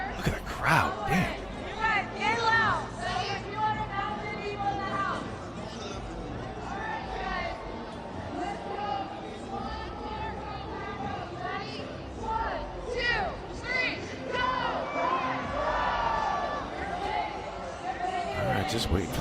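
Crowd chatter at an NFL draft watch party, a dense babble of many voices with shouts and cheers rising and falling, alongside nearby talking.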